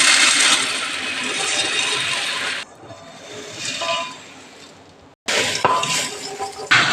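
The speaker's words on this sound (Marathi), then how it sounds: "हे सर्व चमच्याच्या सहाय्याने मिक्स करून घेते" A spoon stirs crisp roasted puffed rice chivda ingredients in a large pot, a continuous dry rustling and scraping with a pause and occasional metallic clinks, close and fairly loud.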